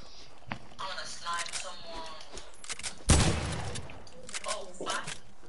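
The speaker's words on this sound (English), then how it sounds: "That's me, I shot accidentally." A single accidental gunshot in a PS4 video game cracks out loud and sudden amid quieter clatter, with people talking around it.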